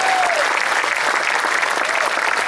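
A school awards night crowd gives a varsity sports team a big round of applause, continuous loud clapping filling the room with a faint voice or whoop at the start.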